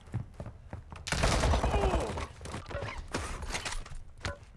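Gunfire in the video game Call of Duty Warzone 2.0 crackles in bursts of rapid shots, mixed with other game sounds while players talk over it.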